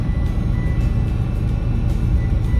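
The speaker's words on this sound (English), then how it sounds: "Look, that car just came from Mexico and one's going to Mexico." A car driving past at the US-Mexico border in Arizona, a loud, close, continuous low engine and road rumble with no voices.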